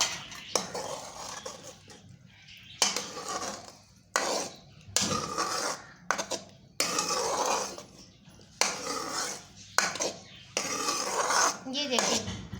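A spoon clatters against a bowl in irregular bursts as whisked yogurt is mixed into cooked bottle gourd for raita, close and fairly quiet with brief pauses.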